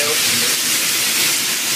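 Chicken sizzles loudly in a hot wok, a dense, steady hiss of frying with no break.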